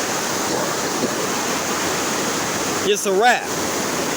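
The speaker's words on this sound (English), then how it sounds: "He can't get in those raging waters, those rapids right there" Loud, steady roar of raging river rapids fills the whole stretch, with a voice speaking briefly near the end over the rushing water.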